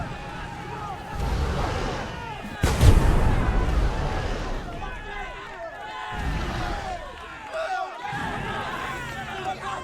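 Ships fire cannons in the sailing game Sagas of Lumin, a sharp booming blast standing out amid scattered further shots and game noise, while a player talks excitedly over it.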